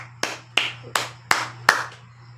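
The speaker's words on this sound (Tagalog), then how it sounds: "Palakpak naman dyan." Five sharp hand claps land at a steady, unhurried pace, each a crisp close slap with a short ring-off, over a low steady hum and no talk.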